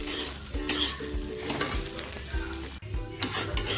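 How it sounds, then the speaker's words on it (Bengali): A paste of ginger, cumin, green chili and coriander sizzles in a pan while a spatula stirs and scrapes it repeatedly, steady frying with rhythmic stirring strokes. "আদা জিরে কাঁচা লঙ্কা ধনে বাটা, বাস এইটুকুনি দিয়ে ভালো মতো কষাবো"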